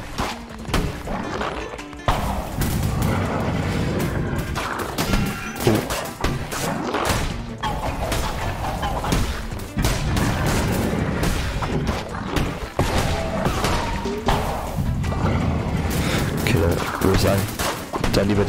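Rapid gunfire bursts and impact cracks fill the action of the video game Cult of the Lamb, dense and continuous, mixed with game effects while a player talks over it.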